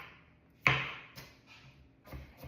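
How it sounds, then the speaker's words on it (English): Celery being chopped with a knife on a cutting board: one sharp, loud chop followed by three lighter, evenly spaced cuts, close and clear against a quiet room. "I'm doing just basic chop here"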